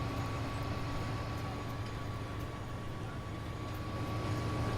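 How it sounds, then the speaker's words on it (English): A goods train rolls past in the video game Farming Simulator 19, a steady low rumble and drone that holds at an even level throughout, with no talking. "There's a goods train going past. You can tell the different sound of the goods train."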